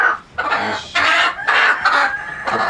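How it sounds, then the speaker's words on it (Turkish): A hen clucks close by in repeated bursts of calls separated by brief pauses, fairly loud and clear, with no talking. "Çok güzel bir tavuk bu arada"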